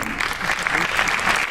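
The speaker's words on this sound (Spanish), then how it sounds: "Aplaudid, aplaudid" Steady applause from an audience at an awards gala, dense, continuous clapping filling the room throughout.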